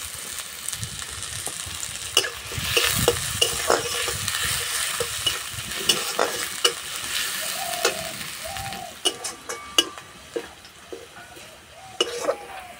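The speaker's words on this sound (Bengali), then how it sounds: "তেলে দেবো পেঁয়াজ কুচি, কাঁচা লঙ্কা কুচি, গ্রেট করা আদা, গ্রেট করা রসুন" Chopped onion, green chili, grated ginger and grated garlic sizzle in mustard oil in a wok, a close, steady fry broken by repeated stirring scrapes and light metal clinks.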